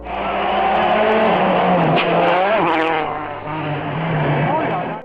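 A rally car races around a bend on a French road course, its engine roaring loudly and rising in pitch as it rushes past up close, with a brief shift and renewed acceleration.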